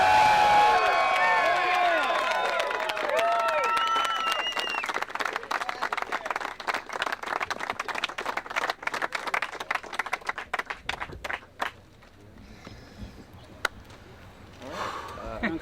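Audience at the 2004 PDGA Professional Disc Golf World Championships applauds the winners, sustained clapping and some cheering that thins into scattered claps before fading out, with a voice heard early on.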